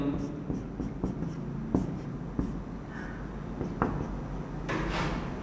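Chalk or marker writing on a board during a chemistry lecture on name reactions, a run of short scratchy strokes and taps at an uneven rhythm, close and clear, with faint room noise between them.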